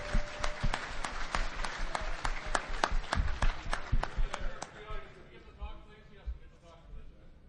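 Crowd applause and clapping at a DEF CON 16 hacking conference hall, honoring the Goons; loud dense clapping with a few whoops, fading into quieter crowd noise and a voice toward the end.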